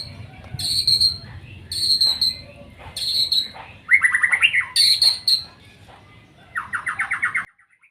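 A white-rumped shama (murai batu) sings loud, close phrases of bright whistles and rapid chattering trills, repeated about every second with short pauses, over a faint low background hum.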